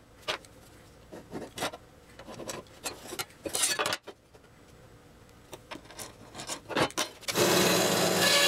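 Sandpaper rubbing down the wooden corners of a DIY guitar body, a series of short, uneven rasping strokes at close range that turns into a louder, continuous scrape at the end.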